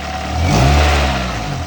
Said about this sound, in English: Let's see if I can hold this and hit the throttle.